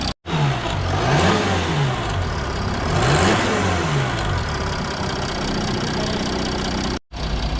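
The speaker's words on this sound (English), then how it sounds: "maybe torque the engine up a bit." A Jeep Grand Cherokee with a suspected ECU fault has its engine revved twice in sharp rising-and-falling sweeps, then settles to a steady idle, close and loud, with brief cutouts at the start and end.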